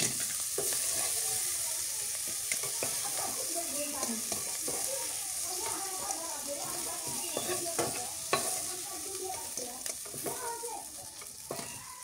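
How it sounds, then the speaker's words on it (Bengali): Shrimp fries in an oiled pan with a continuous loud sizzle, while a utensil stirs and scrapes in frequent bursts throughout. "চিংড়ি মাছ ভাজা হয়ে গেছে, এবার নামায় নি"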